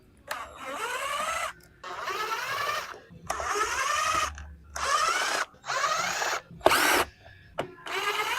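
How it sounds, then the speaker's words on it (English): Power drill backing screws out of a Ram 1500 dash, a loud whirring run-up repeated in about six separate bursts with brief gaps between them. "I'm just going to start taking screws out."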